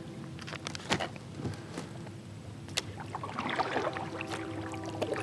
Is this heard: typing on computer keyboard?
no